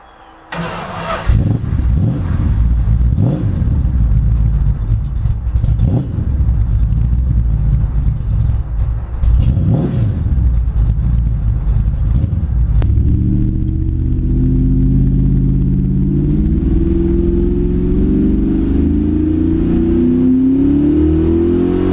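A Chevrolet K10 pickup truck with an Edelbrock carburetor cranks and starts, then revs in several loud bursts before settling into a rough, throbbing idle up close. No voices are heard.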